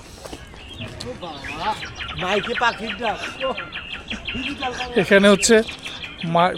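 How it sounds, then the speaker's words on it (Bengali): Recorded birdsong piped through loudspeakers around a resort, with lively chirps and trilling calls throughout, heard under a person talking nearby. "সব জায়গায় সাউন্ড বক্স লাগানো আছে, আর ওইখানে পাখির ডাক ছেড়ে দিছে।"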